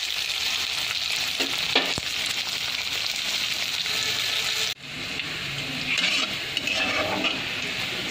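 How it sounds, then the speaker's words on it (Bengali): Sliced onions fry in hot oil in a pan, a steady loud sizzle with stirring scrapes, briefly cut off partway and then resuming. "পেঁয়াজগুলো লাল করে ভেজে নিতে হবে।"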